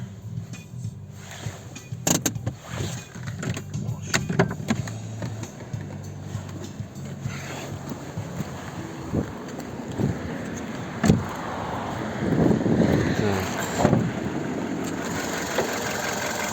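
A 2008 VW Cross Polo's new 1.6-litre petrol 16-valve engine runs steadily at idle for several seconds, a close, even mechanical hum with a few louder clicks and bumps partway through, and no talking.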